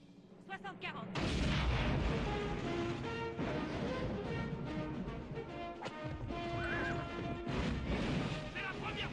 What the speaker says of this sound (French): C'est la première fois que tous les canons d'un navire me tirent dessus.